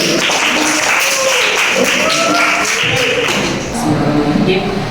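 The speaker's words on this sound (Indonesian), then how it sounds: "Tepuk tangan kelompok satu." Applause in a classroom for the first student group, a brief spread of clapping and tapping mixed with overlapping chatter and voices throughout.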